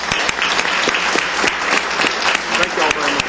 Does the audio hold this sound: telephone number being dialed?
no